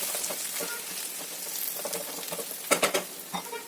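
Chicken frying in a pan with chopped coriander leaves, a continuous crackling sizzle broken by a few sharper stirring clatters toward the end, close and without any voices.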